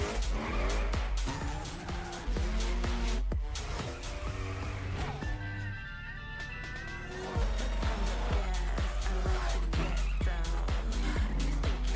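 A Pontiac Trans Am roars through a Ubisoft racing game, loud engine revving rising and falling around tyre squeals and skids, with a short quieter break in the middle and faint talk mixed underneath.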